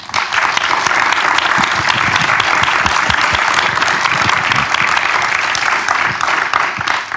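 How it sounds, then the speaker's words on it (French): An audience at a cinema and culture event applauds the former French president, a dense, loud, sustained clapping that fills the room evenly without speech. "je vous demanderai de l'applaudir"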